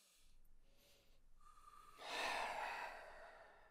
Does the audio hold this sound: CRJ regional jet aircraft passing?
no